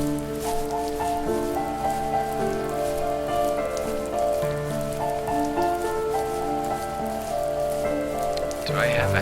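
Gentle video-game rain in a light drizzle, a soft steady pitter-patter of drops on surfaces, continuous and moderately loud for the whole stretch, with no one talking.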